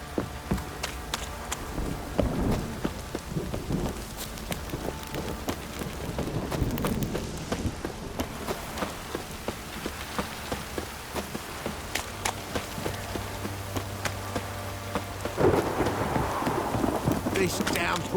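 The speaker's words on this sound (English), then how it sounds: "This downpour's a bastard," Heavy downpour with thunder in The Witcher 3: Wild Hunt, a steady hiss of rain with low rumbles running throughout, and a character speaking over the storm.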